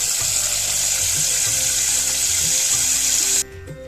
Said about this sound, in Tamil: இப்போ இதில் நல்லா தண்ணி விட்டு ஒரு 2 நேரம் கழுவி எடுத்துக்கலாம்.